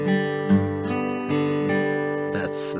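Fingerpicked acoustic folk guitar plays a steady pattern, a bass string pinched together with a treble string, then single notes alternating in an even rhythm, close and clear with no talking.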